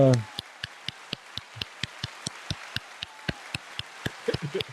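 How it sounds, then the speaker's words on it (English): Steady hand claps, about fifteen crisp, evenly spaced claps in a quick rhythm, close and fairly loud, with a short flurry of extra claps at the end. "Let me go ahead and give some hand claps."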